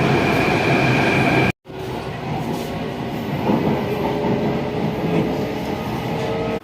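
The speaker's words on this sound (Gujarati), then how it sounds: "ભાઈ મેટ્રો આપણી આવી ગઈ છે અને આ મેટ્રો છે આપણી" A Delhi metro train rumbles and roars along the track close by as it arrives, with a brief cut near the start and a faint metallic whine over the steady noise.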